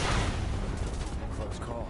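Gunfire from an enemy firefight in Final Fantasy 7 Remake on PS5, dense, steady rumbling bursts mixed with shouting voices, loud and continuous throughout.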